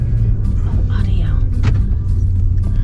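A car drives along a road near a cliff, its low engine rumble and road noise steady and close. A voice talks briefly over it.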